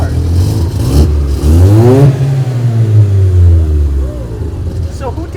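A Mazda RX7's engine revs loudly and close by, the pitch rising and falling through several bursts, with people talking over it.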